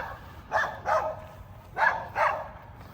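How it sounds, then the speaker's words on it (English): A dog near an old cemetery barks in two pairs of short, sharp woofs, close and fairly loud, with brief quiet gaps between the pairs. "The doggy's not happy."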